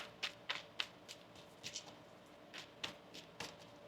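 Tarot cards being shuffled by hand in a quiet room: a run of crisp, papery riffles and taps in short irregular bursts, fairly faint and close, with no one speaking.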